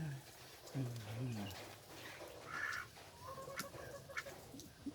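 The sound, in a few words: chicken clucking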